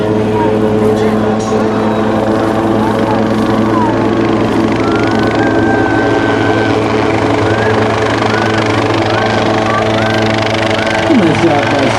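A Schweitzer S269 helicopter flies at a Rotorfest event, its rotor giving a loud, continuous droning hum. The drone holds steady with shifting tonal whines layered over it.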